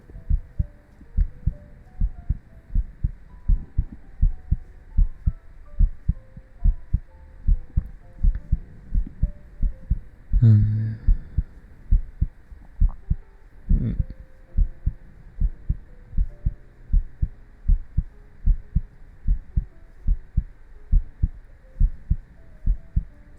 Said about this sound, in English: Why is your heartbeat kind of fast?